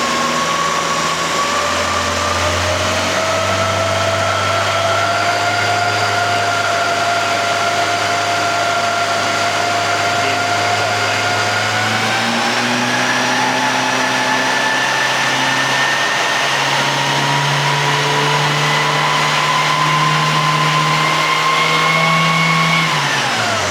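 A Mini engine, a 998 stage 1 or 1275GT, runs steadily during carburettor mixture tuning, a loud close drone whose pitch climbs slightly as it is revved up and then drops away at the end.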